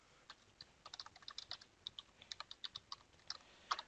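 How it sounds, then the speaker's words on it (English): A note being typed on a computer keyboard, with soft, fairly quiet key taps in an irregular, steady rhythm and no voices. "So what I'm going to do is type in there a note."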